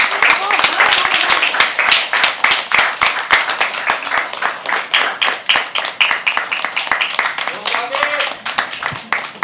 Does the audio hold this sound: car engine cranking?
no